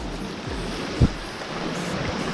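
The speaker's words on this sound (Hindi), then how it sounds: "तो भाई ये है हमारा नाला।" A mountain stream rushes along a rocky gully near Kullu, a constant close roar of water mixed with wind buffeting on the microphone and one brief thump.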